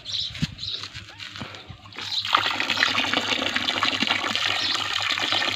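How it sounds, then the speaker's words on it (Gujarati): On a farm, water starts gushing from a tap after a few quiet seconds of splashing and handling noise, then keeps flowing in a loud, steady rush. "ચકલું ચાલુ કરી દેવી કેટલું પાણી આવે"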